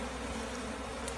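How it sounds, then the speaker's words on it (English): Honey bees buzz in a soft, continuous hum, faint and steady, with a brief louder whine as one passes close, during hive work as wild comb is fitted onto new frames in a nuc box. "Seems like some bees get away on Mr. Anthony."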